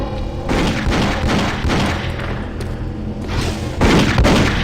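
Loud, booming gunfire and heavy thuds from the shooter game DOOM 3 BFG Edition, several blasts in quick succession with rumbling echoes, no speech.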